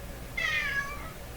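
A cat meows impatiently, one clear, drawn-out meow rising and falling near the listener against a quiet room hum.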